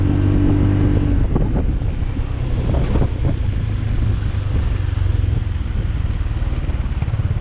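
A motorcycle being ridden, its engine droning steadily under heavy wind buffeting on the microphone, with a few revs early on.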